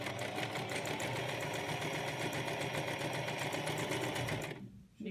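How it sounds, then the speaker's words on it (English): Close, continuous whirring of a sewing machine running along the edge of a cloth face mask, a steady rapid stitching drone that stops abruptly near the end. "And you begin sewing along the edge and stop at every corner."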